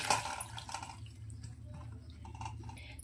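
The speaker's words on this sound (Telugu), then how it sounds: "ఇలా మిల్ మేకర్ నానిన తర్వాత వీటిని స్ట్రెయినర్లోకి వడకట్టుకోవాలి." Water drains and trickles out of soaked soya chunks in a kitchen strainer, a soft close splash at first that settles into faint dripping.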